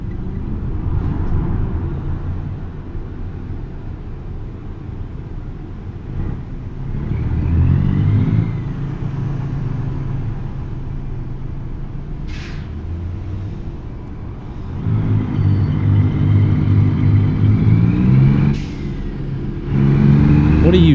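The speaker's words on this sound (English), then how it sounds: "Still trying to get a hang of this downshifting." A heavy truck engine in American Truck Simulator hauling a heavy load from Baton Rouge to Chicago, droning steadily and rising in loud revving swells as it downshifts, with a voice talking at times.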